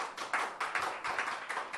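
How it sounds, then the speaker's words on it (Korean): An audience claps steadily at a Korean talk event about building a house for non-regular workers, a dense run of hand claps with pulsing swells lasting the whole stretch, with no voices over it. "손뼉 쳐."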